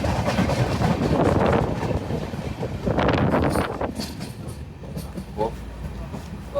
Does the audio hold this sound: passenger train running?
yes